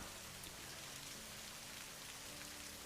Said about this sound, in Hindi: लेकिन लगातार हो रही बारिश की वजह से पानी भरने लगता है